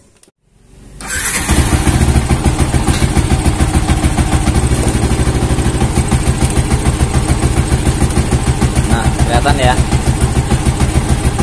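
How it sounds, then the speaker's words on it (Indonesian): An old Yamaha Vixion motorcycle engine cranks, catches and settles into a loud, steady idle close by. The bike has a sputtering fault and a battery that keeps running flat, and a brief word is spoken at the start. "coba sekarang kita hidupkan motornya"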